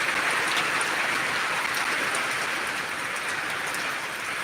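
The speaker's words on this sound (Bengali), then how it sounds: "এখানে কিন্তু খুবই বৃষ্টি হচ্ছে" Heavy rain pours steadily in Debidwar, Comilla, Bangladesh, a dense, continuous hiss with no pauses, close and loud throughout, with no voices.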